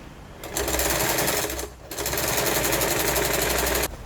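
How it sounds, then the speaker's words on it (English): A sewing machine stitches down a pleat fold on a bucket bag in two loud, close, rapid mechanical runs, separated by a short pause. "I would just pull the pleat out and stitch the fold in place"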